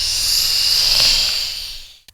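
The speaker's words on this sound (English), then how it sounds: "That was the sound of a Venusian laughing." Sound effect of a Venusian alien laughing: a loud, sustained hissing, whooshing texture with a faint warble that swells and then cuts off abruptly, followed by a brief click.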